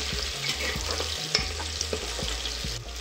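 Whole spices and a bay leaf sauté in hot oil in a pan for basmati pulao, a steady close sizzle broken by repeated scraping stirs, with no voices.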